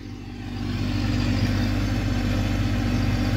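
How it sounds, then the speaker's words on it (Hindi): A tractor engine runs near and loud while ploughing a sugarcane field, a steady low rumble that swells in the first half second and then holds even with no talk. "अब ट्रैक्टर इधर निकलेगा।"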